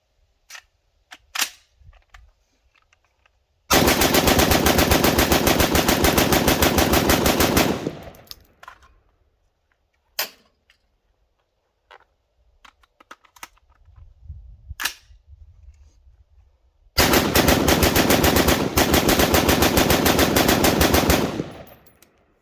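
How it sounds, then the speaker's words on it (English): Two long sustained bursts of rapid automatic gunfire from a 20-inch AR upper, each emptying a full magazine, loud and continuous, with scattered single shots and quieter pauses between the strings. "After I zeroed it, I then mag dumped two full magazines through the AR upper."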